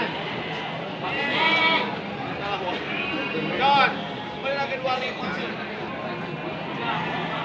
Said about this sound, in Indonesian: Nih di depan saya nih udah ada domba bagus nih, gemuk ya.